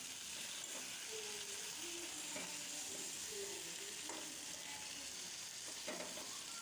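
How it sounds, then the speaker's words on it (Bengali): Large-chopped tomatoes fry in oil for a jackfruit curry. A faint, constant sizzle runs throughout, broken by a few soft scraping strokes of a spatula stirring the pan. "তেলের ওপর টমেটোটা দিলে এমনি ভাজা ভাজা হয়ে যাবে"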